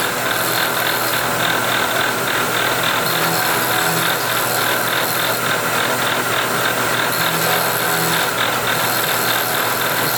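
A milling cutter cuts steel for a Browning A-Bolt 3 scope ring, giving a steady loud grinding chatter with a slight pulsing rhythm that runs without a break and with no voices.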